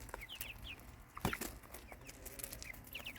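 A large, dominant rooster in an Arizona desert garden gives a few short, close clucks and squawks, with a sharper call in the middle and small birds chirping faintly in the background.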